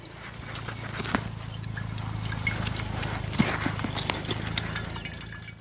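Water pours from a cloth Millbank filter bag into a glass bottle set underneath, a steady close trickle and dribble running throughout with a few louder splashing drips, no talking.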